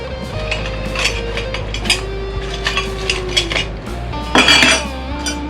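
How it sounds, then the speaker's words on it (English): Small metal screws from a Voodoo Lab pedalboard mounting kit rattle and clink repeatedly as the package is opened and shaken, a close, busy jingling with a louder burst near the end. "I'm gonna go ahead and open this Voodoo Lab mounting kit"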